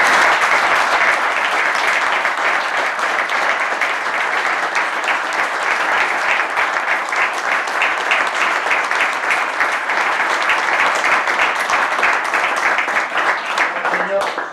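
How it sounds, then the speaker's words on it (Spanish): A lecture audience gives sustained, loud applause at the close of a talk on the Basque economic agreement, a dense, even clapping that continues unbroken for many seconds. "como los aplausos me han parecido poco"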